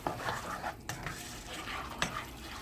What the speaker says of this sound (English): Stir it up. Let that cook together.